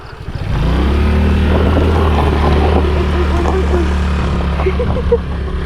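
A small scooter engine drones loudly and steadily, revving hard as it strains, stuck on a rough, dangerous road in Nepal, with faint rattles and knocks over the hum.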